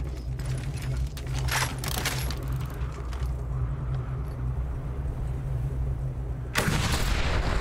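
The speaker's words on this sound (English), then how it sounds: "Time to put the sniper rifle to the test." A sniper rifle fires in the Mad Max video game: loud, heavy reports over a rumbling engine-like backdrop, and a final powerful blast strikes near the end.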